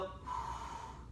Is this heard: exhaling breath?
yes